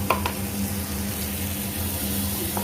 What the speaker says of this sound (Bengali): অল্প নাড়াচাড়া করে আমি গ্রেভিটা দিয়ে দিব, ঝোলটা দিয়ে দিব।